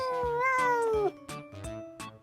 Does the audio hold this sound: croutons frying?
no